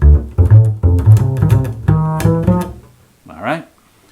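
Bass playing the pickup notes into measure 29 of an etude, a sequence of clear sustained tones up close, followed by a brief spoken voice near the end.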